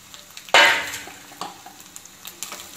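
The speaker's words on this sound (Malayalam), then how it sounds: "ഇതിലേക്ക് ഞാൻ 1 ടീസ്പൂണോളം നമുക്ക് ആ തേങ്ങ വറുക്കാൻ ആവശ്യമായിട്ടുള്ള എണ്ണ ഒഴിച്ചു കൊടുക്കാം." Grated coconut dropped into hot ghee in a pan sizzles with a sudden loud burst, then settles into softer frying crackle with light stirring scrapes.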